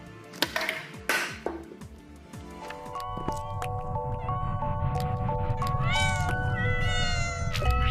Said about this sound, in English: Or maybe the first thing you'll do is meow 100 times to unlock a trophy.